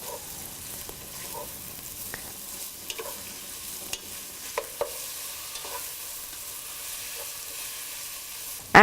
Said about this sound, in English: add sliced onions, some salt and saute well